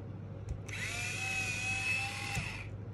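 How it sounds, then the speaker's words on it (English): An electric pencil sharpener whirs steadily for about two seconds, a close, even motor whine that starts and stops abruptly over a low background hum. "okay, that didn't fit in my electric sharpener."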